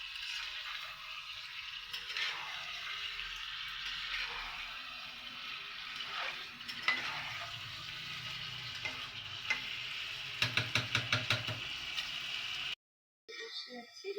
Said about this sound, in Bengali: দেখুন এটাকে আমি কষছি